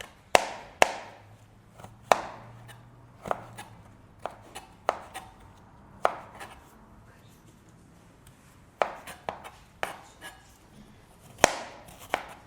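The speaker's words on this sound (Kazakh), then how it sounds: "Текше түрінде турап аламыз." A knife cutting carrots into cubes on a board, sharp irregular chops spaced out, some in quick pairs, close and clear in a quiet room.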